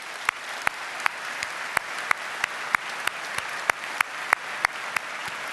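Dense applause from a convention audience at a French intercommunal gathering in Nantes, sustained throughout with sharp, evenly spaced loud claps standing out above the steady patter.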